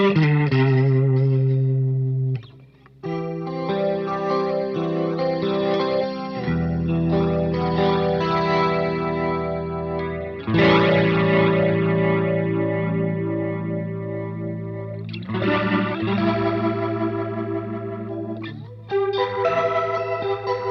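Clean electric guitar chords and notes played through a rotary speaker effect pedal with only the horn spinning, giving a swirling, wavering shimmer; sustained ringing phrases with brief pauses, loud and close, no talking.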